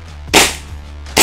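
An Army R601-3 Combat Master Alpha gas BB pistol fires two sharp, loud cracks about a second apart, each a short bright burst with a brief tail, up close and without speech.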